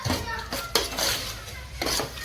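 Crushed almonds and cashews are stirred together in a pan, giving faint intermittent scrapes and metallic clinks of a spoon against the pan, with quiet voices in the background.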